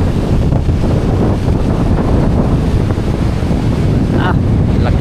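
Typhoon wind roars steadily and loudly at a coastal shore in Dinahican, Infanta, Quezon, buffeting the microphone with a dense low rumble. A faint voice briefly cuts through near the end.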